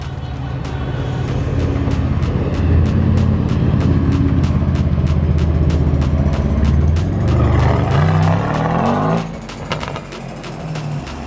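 Several cars of an arriving crew, including a Subaru Impreza, roll in together at a street car meet in Łódź, with loud, steady low engine drone and rumble throughout that shifts in pitch before dropping off near the end.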